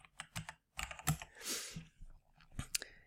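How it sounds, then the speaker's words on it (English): A password being typed on a computer keyboard, a quick run of close, crisp key clicks in short bursts with a brief pause, fairly quiet, with no talking. "Oh, let me type the password."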